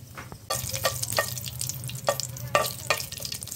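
Mustard oil sizzles in a wok as five-spice seeds and a dried chilli hit the heat, with a spatula stirring and scraping through a close, continuous crackle.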